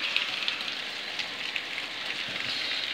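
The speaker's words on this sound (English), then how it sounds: "it's raining, so it's probably not going to thunder much now." Steady rain falling outdoors on a hot day during a thunderstorm, a continuous dense hiss of drops with a few brighter patters close by, no voices.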